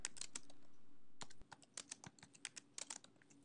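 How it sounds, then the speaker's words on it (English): A computer keyboard clicks in irregular bursts of keystrokes, faint and close, with a brief steady hum at the start and no speech. "Notice that as I'm typing,"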